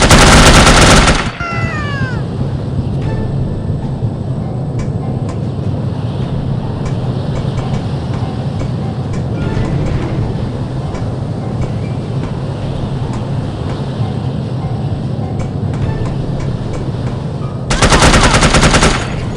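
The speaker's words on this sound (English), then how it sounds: "bullets are coming this way, apparently" Video game gunfire rattles on continuously in rapid automatic bursts, dense and loud, with louder noise bursts at the start and end.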